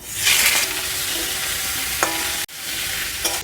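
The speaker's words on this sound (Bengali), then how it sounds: "ওই তেলের মধ্যে চিচিঙেগুলো ভেজে নেব।" Ridge gourd frying in oil sizzles loudly and steadily, with repeated scraping stirs and a short break partway through, no one speaking.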